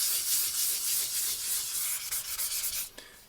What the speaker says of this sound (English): just gonna wet sand everything